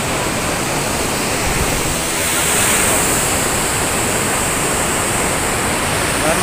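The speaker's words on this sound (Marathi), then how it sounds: "हा धरणाचं पाणी जातो खाली पंधेरीमध्ये." Dam water rushes down at Pandheri dam as a loud, continuous roar of heavy flowing water. It sounds close and fills the whole stretch without any break.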